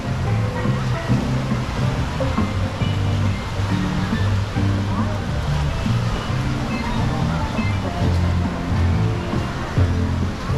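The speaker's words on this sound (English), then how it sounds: "Look at the waves." Waves washing in at Blizzard Beach water park in Orlando, a steady dense roar of churning water throughout, with faint background music and park noise mixed underneath.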